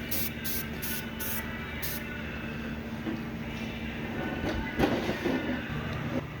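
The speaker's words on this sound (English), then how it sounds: "I'm not going to be spraying the entire bracket or caliper, just the spots that you're really going to be seeing." An aerosol spray can coats selected spots of a brake bracket and caliper on a turbo Honda Civic, giving short repeated hissing bursts early on over a steady low background hum.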